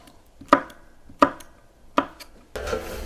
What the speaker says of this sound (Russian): Только болгарский перец нарезать вот так, потоньше.